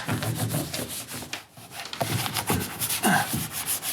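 Rick Bartow working charcoal across a huge canvas in his studio, producing repeated loud, scraping rubs and strikes in an uneven, spontaneous rhythm with a brief pause midway.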